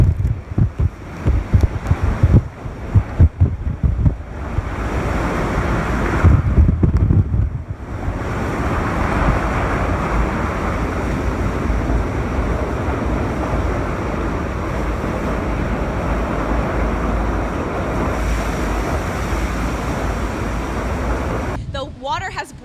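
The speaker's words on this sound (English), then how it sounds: "those ocean waves have been barreling into this hotel" Hurricane Matthew storm surge sends ocean waves crashing against a hotel in Garden City, a loud continuous roar of surf and buffeting wind noise, with brief talk at the start.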